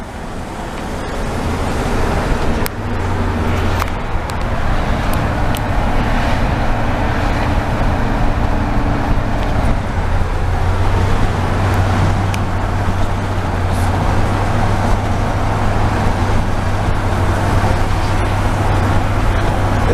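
A 1975 Oldsmobile Vista Cruiser with 270,000 miles drives through Montreal, its engine droning steadily over road and wind noise inside the cabin, with a low rumble that deepens partway through.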